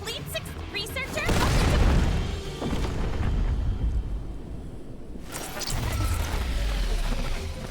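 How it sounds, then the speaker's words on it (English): In the Tower of Fantasy video game, a loud explosion booms with a deep rumbling roar that swells, dips, then surges again before a final heavy blast fades out. "Where did this explosion come from?"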